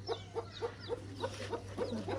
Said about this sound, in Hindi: चलो तुम मुर्गी को पकड़ लो।